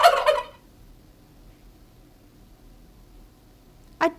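A turkey gobbles once in a loud, rapid rattling burst, followed by near silence and a brief second call at the end.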